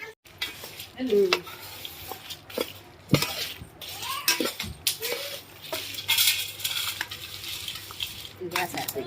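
Sesame seeds roasting in a hot pan for a drumstick-leaf spice powder, with dense crackling and sizzling plus stirring scrapes and occasional clinks of a utensil against the pan, moderately close and steady throughout.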